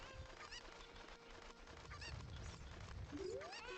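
Cuccos, the chickens of Ocarina of Time, cluck in short repeated squawks over game music and background sounds, one rising call near the end.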